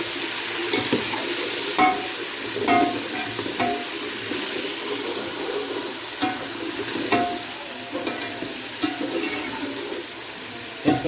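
Tomatoes fry and get stirred in a pan for chicken pulao, a soft continuous sizzle broken by repeated scraping strokes of a spoon, with no talking.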